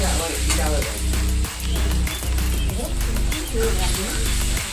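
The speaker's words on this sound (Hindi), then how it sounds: "और मसाला अच्छे से भूनूंगी जब तक तेल ना छोड़ दे" Spice masala frying in oil with onion, a loud continuous sizzle with a rhythmic pulsing hum underneath, and a voice speaking over the cooking.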